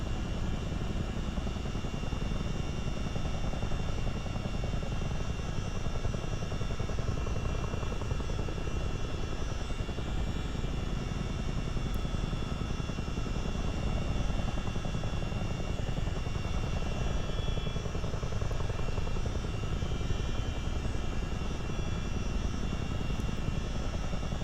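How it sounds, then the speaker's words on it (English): Engine and rotor drone of a CH-47 Chinook helicopter in a flight simulator game, flying low-level VFR: a steady, loud, unbroken mechanical roar with faint tonal whine, no talking. "Sure, I'm enjoying this helicopter."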